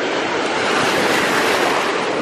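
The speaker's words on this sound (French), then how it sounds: "Là c'est le plus de vagues qu'il y a eu tout le séjour." Sea waves breaking on a beach in Greece make a loud, continuous rushing wash of surf with some wind noise mixed in, steady and close, with no voices.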